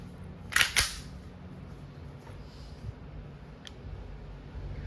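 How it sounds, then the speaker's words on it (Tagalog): A WE Glock 17 Gen 5 gas blowback airsoft pistol fires two sharp, closely spaced cracks near the start, followed by faint clicks over quiet background. "We airsoft gas blowback. Testing."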